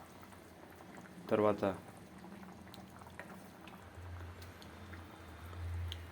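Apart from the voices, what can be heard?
vegetable masala curry simmering in a pot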